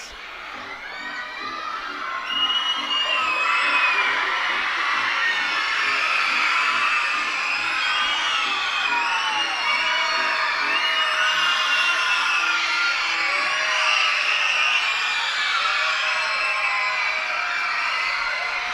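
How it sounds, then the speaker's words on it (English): Baseball crowd at a Reading Fightin Phils game against the Hartford Yard Goats in the bottom of the 8th, a large roar of cheering and shouting that swells after a couple of seconds and stays loud and sustained, with whoops and yells rising throughout. "Crowd roaring here for the Fightin' Phils."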